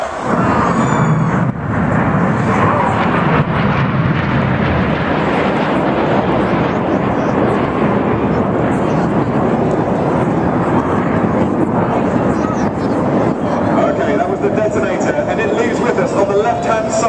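Red Arrows jets flying the Detonator manoeuvre at an air display, a loud continuous broadband jet roar that fills the whole clip with a steady rumble, while an announcer's voice carries on over the engines.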